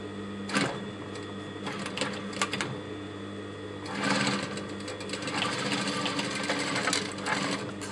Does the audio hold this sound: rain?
no